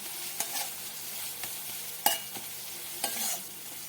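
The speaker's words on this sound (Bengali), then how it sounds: "সুন্দর করে ভাজা ভাজা করব যতক্ষণ না পর্যন্ত মশলা থেকে তেল ছেড়ে যায়।" Quiet frying of ground spices in oil until the oil separates, with a soft sizzle and several scraping stirs of a spatula against the pan.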